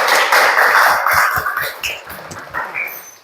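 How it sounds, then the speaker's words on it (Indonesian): Classroom applause for a student group, a dense patter of many hands clapping at once, loud and steady before tapering off over a few seconds. "Tepuk tangan dulu."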